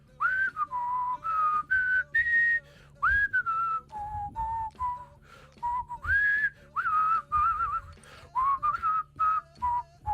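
A man whistles a melodic tune in a series of short phrases with brief pauses between, clear and close, the pitch gliding up and down, recorded on a sports talk show.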